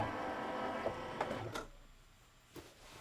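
Sewing machine stitching small quilt blocks for a table topper, a fast motorized whirring run for about one and a half seconds with a few clicks, then stopping, followed by a quieter tick near the end.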